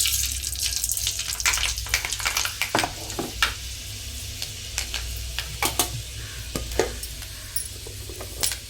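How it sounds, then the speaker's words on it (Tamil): Fenugreek seeds sizzle in a hot pan for fish curry, a steady frying hiss broken by repeated scraping stirs and clinks, close and fairly loud with no talking. "இப்போ சட்டி காஞ்சிச்சு வெந்தயம் போட்டுக்கோம்"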